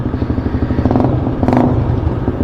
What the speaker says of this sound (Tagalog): So ito yung tunog niya pagka may silencer.